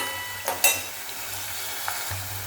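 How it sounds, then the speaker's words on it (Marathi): Chopped onion sautés in a pan for moong aamti, a soft steady sizzle with a couple of sharp spatula scrapes and knocks against the pan. "आपण गुलाबी रंगावरती परतून घेणार आहोत आपला कांदा"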